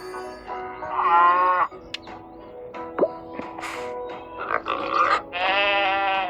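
Goats in a farming video game bleat several times in drawn-out, wavering calls, close and fairly loud, separated by short clicks and thumps, with no talking over them.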